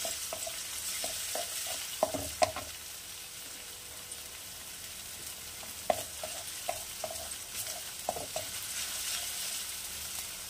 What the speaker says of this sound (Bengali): একটা কাঁচা লঙ্কা দিয়েছি আর একটু আদা দিয়েছি, দিয়ে কুচি করে আমি ভেজে নিচ্ছি